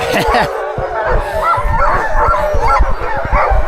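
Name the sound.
sled dogs barking excitedly before a run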